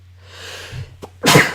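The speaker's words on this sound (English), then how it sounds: "that was a big sneeze" A single loud, close sneeze, preceded by a short sharp intake of breath.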